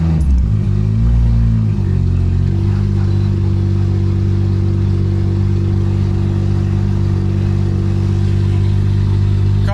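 The engine of a Toyota JZX81 drift car idles close by with a loud, steady rumble after a short rising rev at the start, running evenly throughout.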